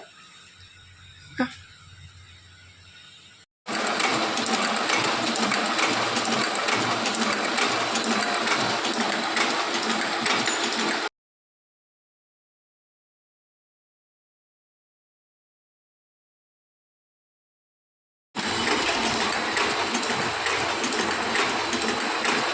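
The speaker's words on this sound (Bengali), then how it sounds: "আমাদের অফসেট মেশিন অলরেডি স্টার্ট হয়ে গেছে" An offset printing machine runs while printing wedding cards, a dense, loud, steady mechanical clatter that starts abruptly after a brief quieter stretch, cuts out for several seconds, then resumes.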